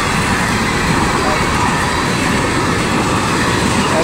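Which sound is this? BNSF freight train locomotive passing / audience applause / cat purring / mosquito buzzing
BNSF freight train locomotive passing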